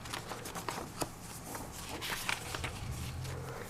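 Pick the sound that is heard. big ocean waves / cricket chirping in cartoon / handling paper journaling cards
handling paper journaling cards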